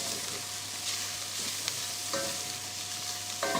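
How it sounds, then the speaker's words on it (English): Potatoes and corn frying in a pot are given a stir, with a low continuous sizzle and a few scraping spoon strokes near the end, close up and with no talking. "So let's just give your pot a stir."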